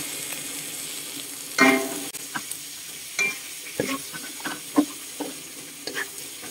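Bitter gourd and ground pork are stirred in a pan: a quiet, close sizzle with an uneven series of spatula scrapes and knocks against the pan, the loudest near the start, and no voices.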